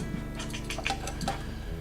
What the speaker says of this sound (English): Now I have a frying pan to cook other stuff on top of the stove.